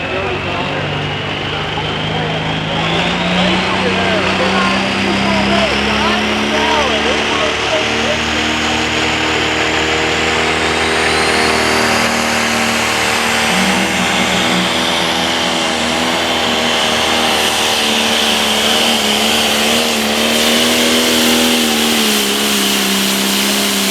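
A John Deere Limited Pro Stock tractor engine roars loud and steady throughout a tractor pull at a 2023 nationals event, with a rising whine and strong low drone, while an announcer talks over it.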